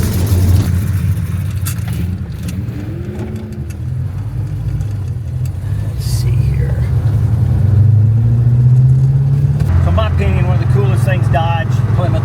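A Plymouth with a Tremec 5-speed conversion rumbles along on the road, its steady engine drone carrying throughout with a rise in revs partway through, while people talk over the noise inside the car.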